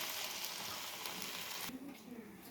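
Egg poured into a hot pan already holding grated coconut, a loud bright sizzle that fills the first part, then drops to a softer crackle with some faint background noise.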